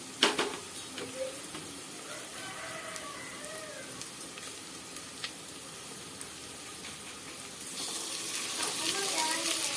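Mutton pieces sauté with onions in a pan, making a soft, low sizzle with a few light clinks and stirs that swells into a louder hiss toward the end, close by with no talk.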